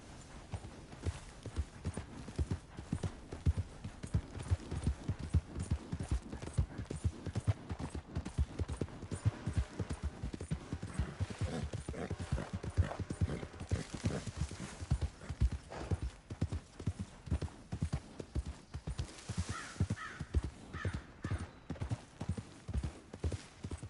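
Horse hooves clip-clop in a steady, brisk rhythm throughout, close by, with a short whinny or snort partway through.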